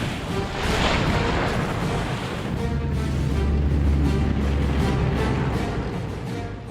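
Heavy French artillery fire during the crossing of the River Meuse, heard as a loud, continuous deep rumble of distant guns with overlapping booms throughout.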